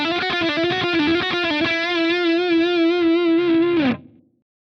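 A heavily distorted electric guitar plays a fast blues scale lick, rapid picked notes settling into a long sustained bend with vibrato before cutting off abruptly.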